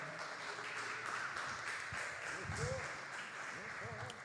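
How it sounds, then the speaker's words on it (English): A crowd at an Experimental Station event claps and cheers at a moderate level, the applause blending with scattered voices and murmuring. "Can y'all clap it up for the Field Foundation?"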